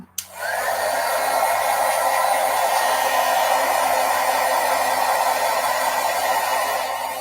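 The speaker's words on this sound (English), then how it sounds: "Now I'm just gonna quickly heat set this a little bit." A heat tool, a hair-dryer-like embossing gun, blows a steady, loud, continuous whoosh while heat-setting embossing on a garden rose craft project kit, running alone from start to finish after a brief switch-on.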